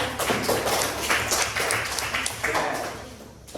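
Classroom applause for a student group, a burst of quick scattered hand claps from a small crowd that thins out toward the end.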